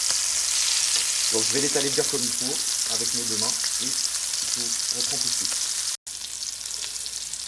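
Food frying in boiling oil gives a steady bright sizzle throughout, with someone talking over it for most of the stretch.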